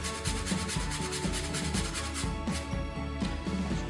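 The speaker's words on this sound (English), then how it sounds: "You just grate the first little bit off and then just grate away." Frozen ginger scraped steadily across a grater, a continuous dense rasping with rhythmic strokes roughly every half second, close and fairly loud with no talking.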